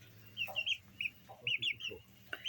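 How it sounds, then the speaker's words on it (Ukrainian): Hens in a small backyard flock cluck softly in short, scattered calls, fairly faint and a little distant, with quiet gaps between them. "це ось у нас курочка і там он курочка"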